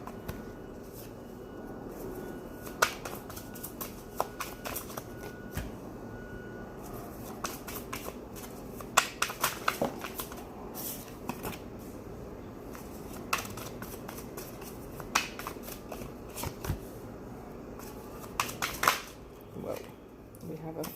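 Tarot cards are shuffled and drawn by hand, giving soft, faint riffling and light snapping ticks scattered through a quiet room, with a voice murmuring now and then.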